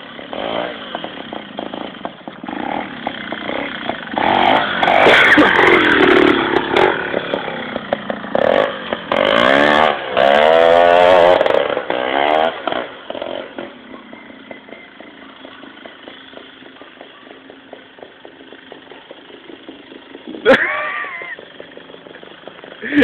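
Trial motorcycle engine revving at a trial moto event in Târgu Jiu, with loud buzzing bursts rising and falling over the first half, then a quieter idle, one sharp rev near the end, and a few faint voices.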